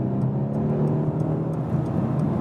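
Mercedes C-Class coupé with a V8 engine pulls hard to overtake, giving a steady, loud, deep droning roar heard from inside the car for a couple of seconds.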